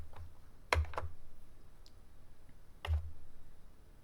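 Sparse key presses on an Elan Enterprise 128 home computer keyboard while a command is typed: a couple of sharp clicks, then a pause and another firm press, close up, with faint hum beneath and no talking.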